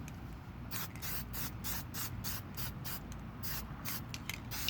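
A spray can lays a dull clear coat onto a GI Joe action figure in a rapid series of short hissing bursts, close and steady, with no talk.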